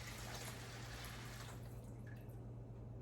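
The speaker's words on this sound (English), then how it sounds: "I'm going to pour this chicken broth in here." Chicken broth being poured into a pan for one-pan chicken and rice, a faint steady liquid pour that thins out midway and ends in a few small drips.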